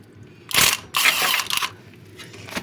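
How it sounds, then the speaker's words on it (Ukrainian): Impact wrench with an M10 12-point socket on the crankshaft pulley bolt of a Golf 7 1.6 TDI during a timing belt change: two loud, harsh mechanical bursts close together, then a fainter rattle near the end. "я допустим, використовую гайковерт, щоб не прокрутити"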